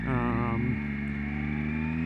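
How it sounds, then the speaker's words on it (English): Revving triple engine of a Triumph Speed Triple R motorcycle, a brief rising rev that drops back to a steady, close, throaty idle drone. "These triple engines just sound friggin' awesome"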